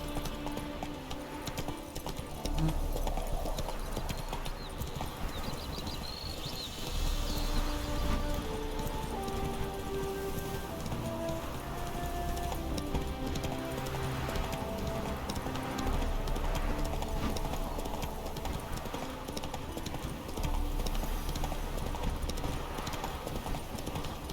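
Geralt's horse Roach galloping in the video game The Witcher 3, a steady rhythmic clip-clop of hooves that runs throughout, set against a game music bed with no one speaking.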